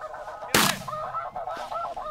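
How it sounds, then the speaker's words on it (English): A flock of geese honks repeatedly while circling over a waterfowl hunt in Mexico, nasal calls rising and falling at moderate distance, broken by one sharp loud gunshot. "The geese circle around a couple of times to double check everything is going right."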